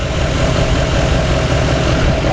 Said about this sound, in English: now I can hear the compressor come on